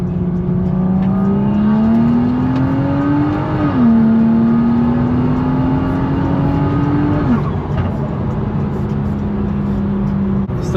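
A BMW M235i's engine drones steadily from inside the cabin while driving, its pitch climbing gradually and dropping twice at gear shifts, with no talk over it.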